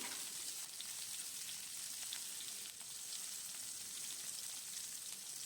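Eggplant frying with salt and turmeric in a pan, giving a faint, even, hissing sizzle throughout with tiny crackles and no talk.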